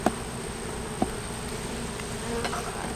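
A steady, dense buzz of a honeybee colony fills the air continuously during a single brood box hive inspection, with a couple of faint clicks and knocks close by.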